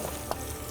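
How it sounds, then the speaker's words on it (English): Onion frying in a pan gives off a soft, steady sizzle, faint and continuous, with one small pop partway through and no talking. "We'll fry this onion till it's translucent"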